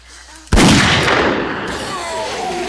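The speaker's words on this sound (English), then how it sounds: "One shot and the crawler's down." In 7 Days to Die, a single loud gunshot from a magnum-type handgun drops a crawler zombie: one sharp, close blast that ends in a booming echo and a fading tail, with faint speech heard around it.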